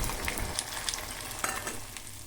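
Beaten eggs seasoned with salt and turmeric fry as an omelette in a pan, giving a continuous bright sizzle with small crackling pops throughout.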